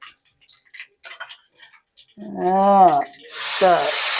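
Soft clicks and a brief voice give way to a sudden loud hiss of ginger hitting hot oil for pickle, sizzling steadily to the end.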